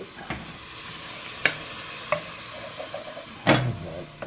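A wooden spoon stirs chili in a freshly deglazed pan over a soft, continuous sizzle. Sharp scrapes and knocks land at irregular moments, close to the mic, and no one speaks.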